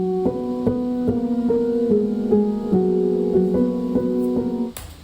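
Keyboard riff in a worship band mix played in octaves, a steady pulse of doubled note attacks over sustained tones, ending with a brief noisy burst.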